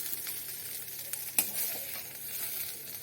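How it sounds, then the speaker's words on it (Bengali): Moringa (drumstick) leaves fry in a pan with a soft, steady sizzle, broken by a single sharp clink of a spoon stirring partway through. "সব কিছু দিয়ে আবার ভালো করে ভাজা ভাজা করে নেব"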